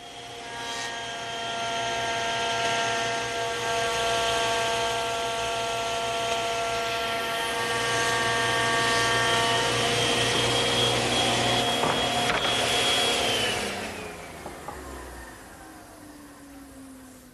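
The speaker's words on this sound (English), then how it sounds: "I'm going to show you a shortcut using the thickness planer." A thickness planer feeds glued-up wood panels, its loud whining motor roar holding steady for over ten seconds before spinning down into quieter rumbling, with no voices.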